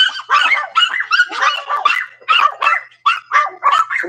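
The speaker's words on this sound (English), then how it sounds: "Loud because of the dog." A big dog barks loudly and close in a rapid, continuous run of barks and yips, with little else audible.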